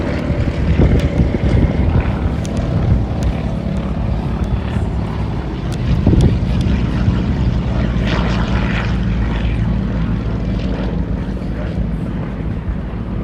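A propeller aircraft performs unlimited-style aerobatics at the IWM Duxford D-Day anniversary airshow, its engine droning loud and close and swelling and fading as it manoeuvres, without pause.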